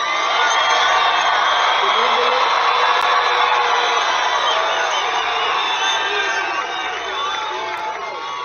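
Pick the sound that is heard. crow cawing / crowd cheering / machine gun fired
crowd cheering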